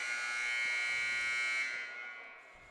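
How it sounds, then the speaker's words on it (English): Sustained electronic buzzer in a high school boys' volleyball gym before a match, one steady loud blare lasting about two seconds and then fading, with faint hall ambience. "You heard the buzzer there."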